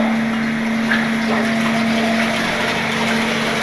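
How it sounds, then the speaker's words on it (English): Water from an opened valve jets through a nozzle onto a flat vane inside a lab impact-of-jet apparatus, producing a loud steady rushing hiss with a constant pump hum, no talking. "the moment we will open that valve, the water it will come out through the nozzle and it will strike on the"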